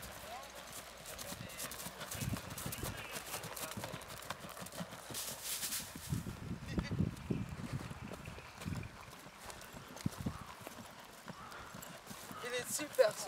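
Horse hooves clip-clop on open ground in a mountain and seaside setting, an irregular run of muffled steps under wind noise and ongoing talk.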